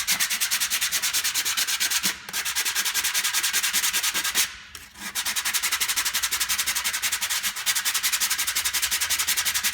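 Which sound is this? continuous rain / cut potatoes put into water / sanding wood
sanding wood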